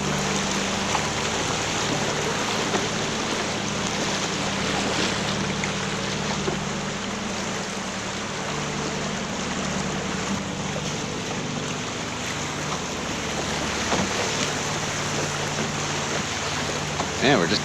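Fast-flowing rapids on the Spanish River during a late-fall canoe trip, a continuous broadband rush of water with a low rumble, heard steadily from close by throughout.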